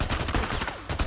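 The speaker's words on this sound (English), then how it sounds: "Oh, who's shooting me?" Gunfire in the video game Days Gone, several quick bursts of shots in a row, loud and close, with no talking.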